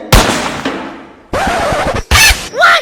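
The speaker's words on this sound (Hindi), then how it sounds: "कहाँ गोली चल रही है?" Several loud, close gunshots: sharp cracks with ringing decay, then a quick burst of rapid fire, separated by brief silences.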